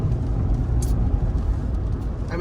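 A 2011 Toyota Highlander with fairly new tires driving on a rain-soaked road, heard as a steady close rumble and tire hiss with no voices.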